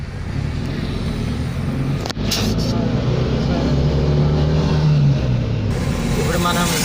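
A car cruising along the Warangal highway toward Ankushapur village after refuelling, its steady engine and road rumble continuous throughout, with a low drone rising midway and a brief dip near the start.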